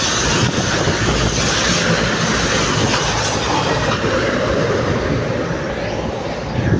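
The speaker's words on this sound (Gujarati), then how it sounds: "રેલગાડીનો અવાજ એટલો આવે છે ને" A train rumbles past loudly and continuously, a broad roar with wind buffeting the microphone and no speech.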